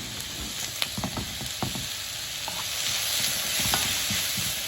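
Vegetable noodles stir-fried in a pan for an Asian-glazed salmon dish, with steady close sizzling and frying hiss broken by repeated scraping and clinking of a utensil stirring through the food, no talking.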